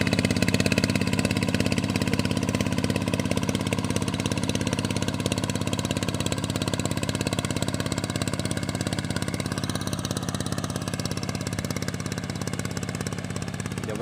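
A TF150di tractor engine pulls an old-style ski harrow, chugging in a steady, rapid, close diesel rhythm at constant load throughout.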